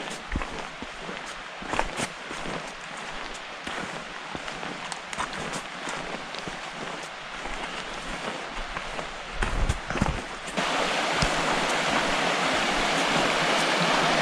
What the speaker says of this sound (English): Definitely hear water.